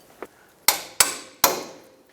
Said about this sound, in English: you're going to want to take a hammer and tap it out that way.